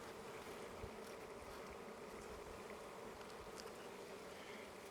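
Honeybees buzz steadily around an open hive during a spring inspection, a soft, even drone with occasional louder passes as individual bees fly near.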